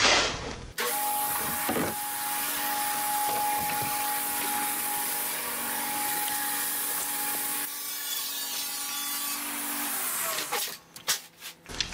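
A saw rips a 33-inch-wide strip for a cabinet drawer bottom. It gives a loud, steady whining roar from the first second to near the end, then winds down into a few scattered knocks.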